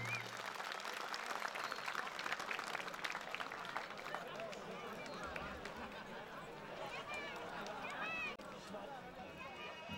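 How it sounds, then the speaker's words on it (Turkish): A crowd claps at an outdoor wrestling event at Gazipaşa's Lamos Arena, steady applause rolling on under an announcer's voice and background noise for the whole stretch. "Alkışlar, alkışlar daha çok etsin."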